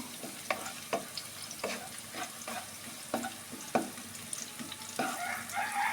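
Cardamom pods and cinnamon pieces sizzle in hot oil, with a steady close frying hiss broken by repeated sharp scraping taps of a spoon stirring the pan, and no talking.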